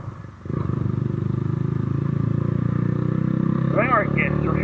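A motorbike engine drones steadily at speed in third gear, loud and close with a constant rhythmic pulse after a brief quieter start, while a voice speaks over it near the end.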